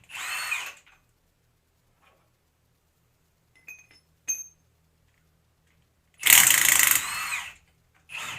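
Power drill backing bolts out of the steering gearbox on a Jeep YJ, two short bursts of loud whirring at the start and end, separated by a long near-silent gap with a few faint metallic clinks.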